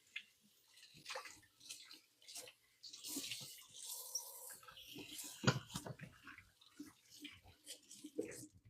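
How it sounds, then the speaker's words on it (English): Hands are rinsed under a running kitchen tap, a soft, intermittent splash and trickle of water heard close by and fairly quiet, with small knocks and shuffles in between. "Give my hands a quick wash."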